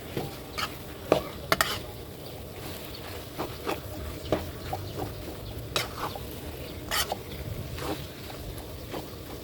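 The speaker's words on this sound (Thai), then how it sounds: "ผัดหมูให้เข้ากับ" Irregular scrapes and clacks of a spatula stir-frying minced pork with curry paste in a small pan over a steady low sizzle, with no one speaking.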